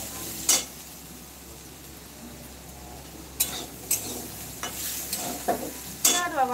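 Potatoes frying in a kadai with a low steady sizzle and occasional sharp pops and spoon-stirring clatters, close by with no talking.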